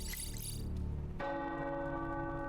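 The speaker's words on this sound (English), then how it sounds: "bells are ringing." Church-style bells ringing in the video game Midnight Suns, a dense, resonant clang that sharply changes to a new sustained, sweeping bell tone partway through, with no talk over it.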